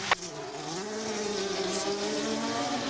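An IndyCar race car at Michigan in 2005 accelerates hard out of pit lane, its engine note climbing steadily in pitch as it pulls away, loud and sustained after a brief sharp transient at the start.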